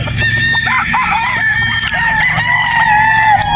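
Several gamefowl roosters crowing and overlapping at a game farm in Batangas, loud and close, with hens clucking in the background.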